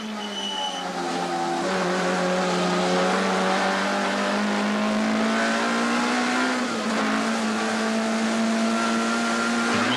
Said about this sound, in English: A dab on the brakes and down a gear or two for the S's and the long sweeping left-hander at Cox Corner, with Cowie keeping tabs on Chris Aberdeen